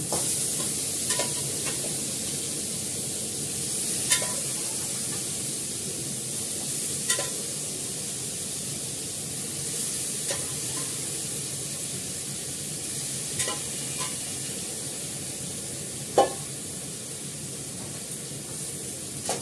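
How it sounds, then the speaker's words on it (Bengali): Meat stir-frying in a pan for a slow-cooked kosha curry gives a steady, close sizzle, broken by occasional light clinks and scrapes of the spatula; no one talks. "একটু মাংসটা দেবো, দিয়ে কষাবো।"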